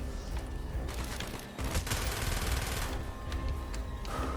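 PPSh submachine gun fire in Call of Duty Black Ops during a Soviet Arctic mission, a continuous rattling spray of rapid shots under dense battle noise, loud and sustained with brief lulls.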